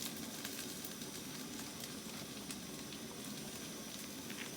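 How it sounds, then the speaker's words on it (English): Diced zucchini and celery hiss and sizzle in a hot pan for a vegan tomato pasta dish, a steady, fairly quiet crackling fry with no talking. "now I'm gonna add the diced zucchini and the celery"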